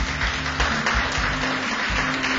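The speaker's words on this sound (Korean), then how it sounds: "교수님들께 따뜻한 박수 부탁드립니다." Warm applause from an audience honoring professors at the opening ceremony of a citizens' college course, a dense steady wash of many hands clapping, filling the room without pause.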